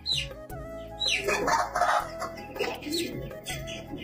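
Backyard chickens cluck repeatedly at close range in a steady, busy chatter, with no talking.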